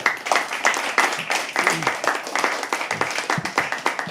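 An audience at a live poetry open mic at The Habitat claps steadily, waiting for the next poet to come on stage. The applause is sustained and close, with scattered voices underneath.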